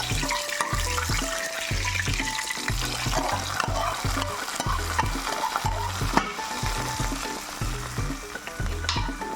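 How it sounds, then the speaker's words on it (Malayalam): Hot oil sizzles and crackles steadily as a tempering of fried mustard seeds, onion and curry leaves hits a coconut pearl spot fish curry, with stirring and scraping throughout; no voices. "ഉള്ളി കടുക് കരിയാപ്പിള വറുത്ത് കടുക് വറുത്ത് ഇതിലേക്ക് ഒഴിക്കും"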